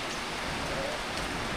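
Steady rain falls on a wet road, a dense, even hiss with a soft patter that holds throughout without pause.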